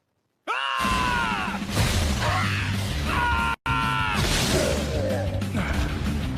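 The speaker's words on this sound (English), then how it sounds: "Please stop screaming in my ear." A person yells and screams in loud, strained bursts, cut by a brief gap of silence, then more groaning, effortful shouting.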